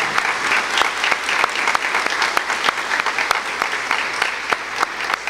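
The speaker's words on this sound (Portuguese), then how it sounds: "Vamos aplaudir a nossa igreja. Vamos aplaudir São Pedro e São Paulo. Vamos aplaudir o nosso Papa." Church congregation applauding at a Mass, a steady sustained round of many hands clapping with distinct individual claps standing out, loud and close, no talking over it.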